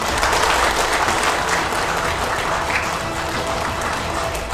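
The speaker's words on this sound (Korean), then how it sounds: "우리 정영원 후보를 위해서 큰 박수 한번 보내주시기 바랍니다" Crowd applause at a campaign office opening ceremony for an election candidate in Mungyeong, a dense steady wash of many hands clapping at even loudness for several seconds, with no talk over it.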